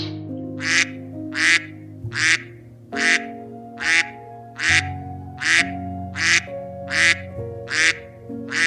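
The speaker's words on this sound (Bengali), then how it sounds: "কেউ না থাকলে কি হবে বুড়ির ছিল এক ঝাঁক হাঁস" A duck quacks repeatedly in a steady rhythm, about ten loud close calls, over a sustained low tone.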